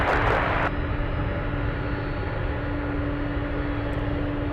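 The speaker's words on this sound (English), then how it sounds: "Look at this, it's moving. We have the Dreamlifter. Pushback." Boeing 747 Dreamlifter cargo plane rolling after pushback at Anchorage airport, a loud steady engine roar and hum holding throughout, with a brief burst of broadband noise at the start.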